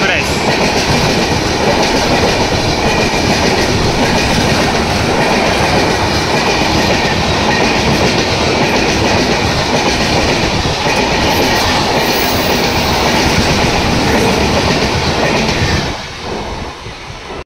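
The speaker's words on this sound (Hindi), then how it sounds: "शताब्दी एक्सप्रेस" A Shatabdi Express train rushes past at close range, giving a loud, continuous roar with rhythmic wheel clatter that suddenly drops away near the end.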